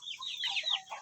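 Free-range village chickens cluck in a backyard coop at feeding time, a short run of close, fairly soft clucks and calls. No speech.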